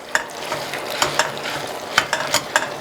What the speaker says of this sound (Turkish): Etimiz pişiyor. Kuyruk yağımız eriyor.